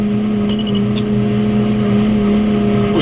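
A loud, rough diesel engine of an old JCB machine drones steadily up close, a constant heavy rumble with a few faint clanks over it.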